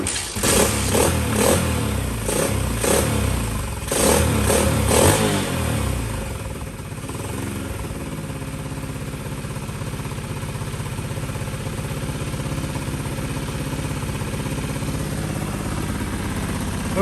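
A Honda CT110 motorcycle engine running close by, blipping and revving unevenly for the first few seconds before settling into a steady, loud idle chug, with no talking.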